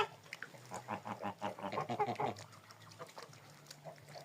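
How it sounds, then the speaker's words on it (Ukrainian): Close, hoarse honking and cackling from a gander walking nearby, several irregular calls in a row, with faint rustling between them. "ззаді йде гусак"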